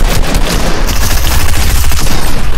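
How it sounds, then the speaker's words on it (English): Close, loud bursts of gunfire fill a match of Fortnite, a dense barrage of overlapping shots with no talk; exact tactical shotgun blasts are hard to single out. "You're missing tactical shotgun shots, man."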